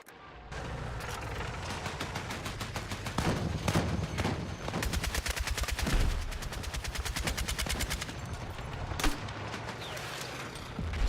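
Rapid automatic gunfire from a weapon in an online shooter game rattles almost without a break, loud and sustained, with a sharper burst near the end and no talk over it.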